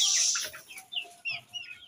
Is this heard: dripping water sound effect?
no